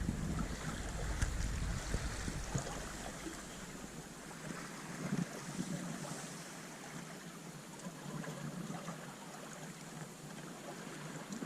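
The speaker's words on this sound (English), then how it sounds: "The wind has slowly built in the last couple of hours." Wind and waves out on Loch Fyne as heard from a sailing boat: a steady, broad rush of gusting wind and water across the whole stretch, with low rumbling microphone buffeting and no voices.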